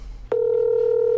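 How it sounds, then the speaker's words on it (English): A telephone line sounds a single steady electronic tone right after a click, loud and continuous, with a faint hum underneath and no talking. "Calling the office of Jason."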